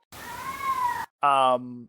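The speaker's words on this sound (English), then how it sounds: "Can you hear my cat screaming?" A domestic cat lets out two loud, close cries: a long wavering yowl followed after a short gap by a harsher, strained scream.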